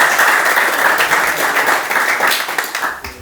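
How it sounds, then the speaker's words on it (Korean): Close, loud applause from a team in a post-match locker room, for two teammates. Brisk, dense clapping holds steady, then tapers off near the end. "두 명 좀 잘 해줘서 고맙다고 이야기해주고 싶어가지고 박수 한번 쳐줍시다"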